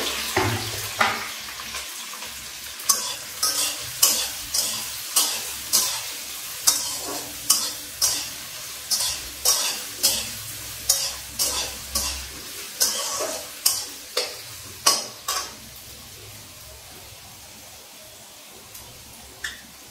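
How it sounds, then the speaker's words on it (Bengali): Chopped chili and onion for veg Maggi noodles fry in a pan while a spatula stirs in a steady run of about twenty close, sharp scrapes over continuous sizzling, thinning out toward the end. "এই যে লঙ্কা কুচি পেঁয়াজ কুচি করে দিয়ে দিলাম, একটু নাড়িয়ে নেব।"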